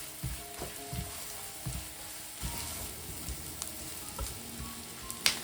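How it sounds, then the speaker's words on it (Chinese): Minced garlic and wood ear mushrooms are stir-fried in a wok, with a soft steady sizzle broken by repeated thumps and scrapes of tossing and stirring, fairly quiet and without speech. "放入切好的蒜末，再放入木耳，翻炒均勻。"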